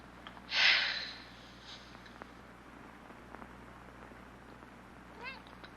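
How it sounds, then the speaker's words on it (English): A cat gives a short, breathy hiss or snort close by, then goes mostly quiet with faint rustling and a soft sound near the end. "Hello, cat."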